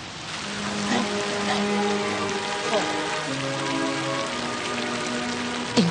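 Steady rain falls across an outdoor scene in an Iranian film, a dense even hiss that runs throughout beneath faint tonal background music, with no voices.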